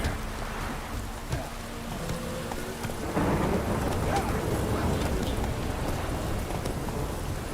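Steady heavy rain pours down with rumbling thunder rolling underneath in the Witcher 3: Wild Hunt video game, a continuous dense wash that swells louder midway through.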